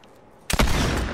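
Fortnite fire rifle fires in a sudden loud burst after a quiet start, a sharp crack followed by a sustained roaring blast of gunfire that fills the rest of the moment.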